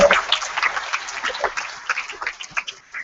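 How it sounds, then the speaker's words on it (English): An audience at a startup demo day session applauds, scattered uneven claps rising and falling, loud at first then thinning, with faint murmuring underneath. "Please give them a round of applause again."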